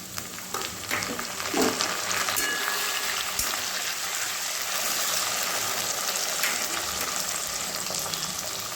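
Chopped tomatoes go into hot oil with fried onions in a pan for a taro leaf dish, producing a loud, continuous crackling sizzle that stays strong and even for several seconds.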